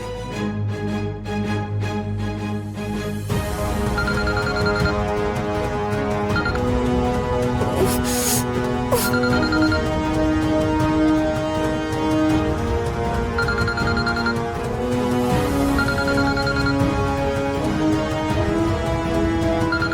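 A phone rings with a steady melodic ringtone that repeats loudly throughout, set against a sustained musical backdrop, with no talking.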